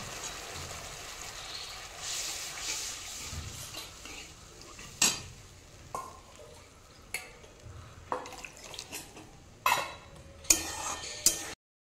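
A spoon stirs cornflour mix into cabbage manchurian gravy in a pan, with soft continuous scraping broken by sharp metallic clinks and taps against the pan's side, close and fairly quiet, with no talk.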